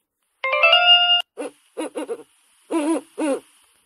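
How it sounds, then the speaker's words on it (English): An owl hoots several times in short, distinct calls, clear and close, after a brief chime-like tone at the start. "Owl."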